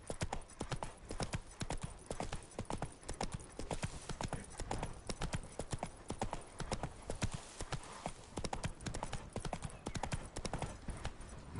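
Roach the horse gallops in The Witcher 3 on PS5, with a steady, rapid clip-clop of hooves running close and loud through the whole stretch, never pausing.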